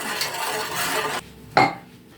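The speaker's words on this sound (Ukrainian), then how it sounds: "Зараз ми це все розчинимо пошкверкає трохи" Salt and sugar are stirred in a pot to dissolve, a gritty scraping swirl followed by a brief pause and then one sharp metallic clank of the spoon against the pot.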